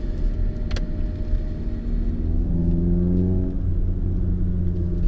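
VW GTI MK7 with a Cobb Stage 3 catless downpipe, a deep steady exhaust rumble from close by that rises in pitch partway through as the engine revs up, then settles.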